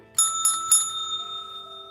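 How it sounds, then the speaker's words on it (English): A small pink service bell is struck three times in quick succession, each bright ding clear and close, with the metallic ring sustaining and fading after the last hit. "show you guys her beautiful little pink service bell"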